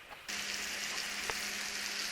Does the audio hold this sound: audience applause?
no